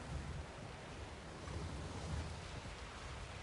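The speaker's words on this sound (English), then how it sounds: "There's a waterfall." Steady broadband rush of a waterfall in Star Wars Jedi: Survivor, a constant, even roar with no speech.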